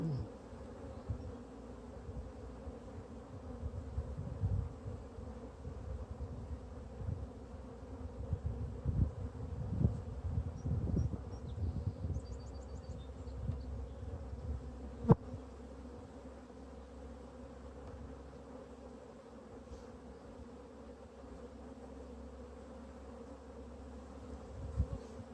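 Honey bees buzzing inside an open hive on a frame of eggs and larvae, a steady close droning hum throughout with a few louder passes near the microphone.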